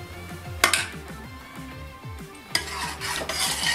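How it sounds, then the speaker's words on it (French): A pot of tomato sauce from canned tomatoes and onions being stirred, repeated spoon scrapes and soft knocks against the pot in an uneven rhythm over a low bubbling sizzle, with two sharper clanks. "Pensez à remuer très régulièrement"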